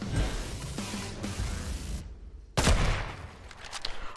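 Fortnite gunfire, bursts of rapid shots at the start, a short quiet gap, then a sharp loud crack followed by further scattered shots and game effects, with no talk.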